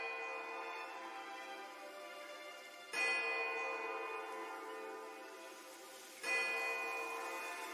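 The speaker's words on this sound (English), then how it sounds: "The tolling of a single bell joins the chorus of birdsong." A single deep bell tolls in Pillars of Eternity 2, each strike ringing out and slowly decaying before the next, two clear strikes with long lingering resonance, quiet and alone.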